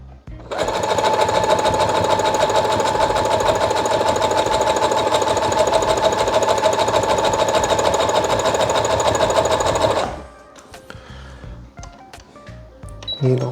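Sewing machine mending a ripped seam on a pillow cushion, running in one loud, steady, rapid whirring burst for about ten seconds before stopping, followed by quiet handling clicks.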